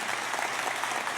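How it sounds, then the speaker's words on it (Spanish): Audience applause in a hall, a brief dense burst of steady clapping from many hands, continuous and even throughout. "Quisiera por favor que le brindemos un fuerte aplauso a estos dos hombres"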